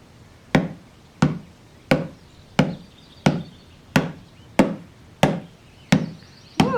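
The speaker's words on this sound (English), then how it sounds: "you could hear the pounding from miles away" Ten heavy, evenly spaced blows pound a black ash log outdoors, each a sharp close thud with a short ringing decay, in a slow steady rhythm with no voices.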